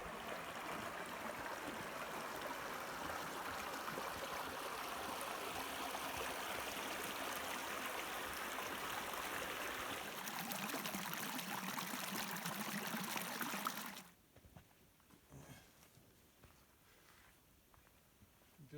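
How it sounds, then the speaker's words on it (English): A small creek in Canyonlands, Utah, rushes in a steady, continuous flowing wash of water that changes character partway through and then drops abruptly to near quiet with faint outdoor noise. "This little creek down there,"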